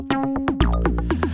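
Distorted Eurorack modular synth plucks, processed through TH30 distortion, repeat in a quick, bright pattern, harmonically rich and gritty, alone without any voices.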